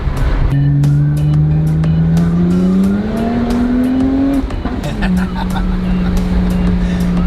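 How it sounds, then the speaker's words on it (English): A BMW 1M accelerates hard, its engine note climbing steadily through the rev range before a gear change drops the pitch, then holding steady; loud and close from inside the cabin, with occasional speech over it. "Gosh, this car's fast, man."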